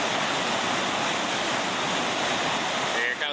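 A whitewater river rapid full of pour-overs and constrictions roars as a dense, loud, continuous rush of churning water at close range.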